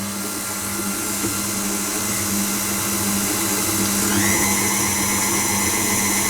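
A small kitchen mixing machine creams softened butter and sugar with a steady, unbroken motor whir that holds at an even, fairly loud level throughout, with no talking.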